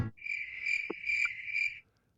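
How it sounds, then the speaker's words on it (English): Crickets chirp in a steady, close, shrill trill with several pulsed bursts lasting nearly two seconds, then stop, leaving quiet. "Well, that was crickets."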